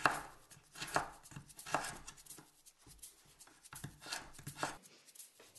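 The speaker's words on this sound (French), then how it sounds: "Saisissez une tranche de carotte et tranchez dans la longueur des bâtonnets de 3 mm d'épaisseur." A kitchen knife slices a carrot slice lengthwise into 3 mm sticks on a cutting board, giving soft, quiet, rhythmic chops close by with no talking.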